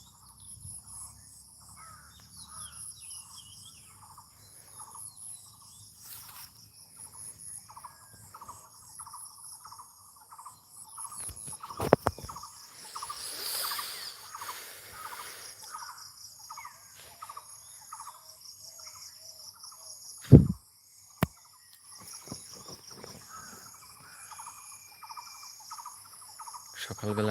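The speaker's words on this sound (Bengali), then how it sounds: "পাখির ডাক" Birds calling outdoors among trees, a quiet rural scene with a regular repeating call and a constant chorus of crickets and insects in the background, plus a few sharp knocks.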